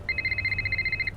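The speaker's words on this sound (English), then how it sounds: "Getting a phone call?" A phone ringing in Nancy Drew: The Shattered Medallion, a rapid electronic trill of about a dozen bright pulses in one short burst, clear and close over a low background rumble.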